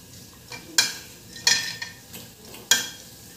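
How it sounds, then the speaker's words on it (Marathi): Cumin, mustard seeds and curry leaves crackle in hot oil for a kadhi, with sharp popping bursts at irregular intervals over a low sizzle, close and fairly loud, and no voices. "आता जिरं मोहरी तळतळलेली"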